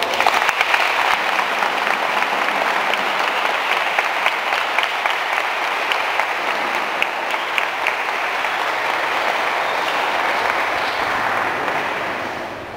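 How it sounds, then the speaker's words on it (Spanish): Dense, steady applause from wedding guests at a ceremony in Puerto Santa Geltrudis, Ciudad del Maíz, San Luis Potosí, loud and continuous for about twelve seconds before easing off slightly at the end. "Un aplauso, por favor."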